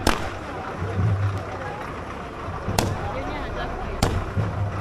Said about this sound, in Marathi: चालले नुसते फटाके